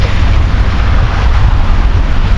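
Strong wind at the seashore roars in steady, heavy gusts against the microphone, a loud, continuous low rumble with no voices.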